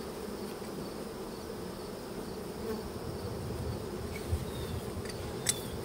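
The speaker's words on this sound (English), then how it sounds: "There's quite a few bees in here." A dense, continuous buzz of many honey bees in a hive fills the space at close range, steady and low, with a few brief louder passes.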